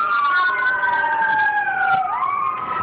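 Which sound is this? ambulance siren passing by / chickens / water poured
ambulance siren passing by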